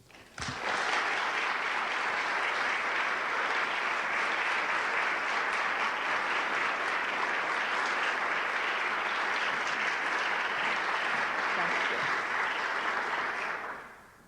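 Sustained applause from an auditorium audience at a 1998 University of Richmond evening event welcomes speaker Frances Hesselbein, starting abruptly and holding steady and loud for about thirteen seconds before fading out.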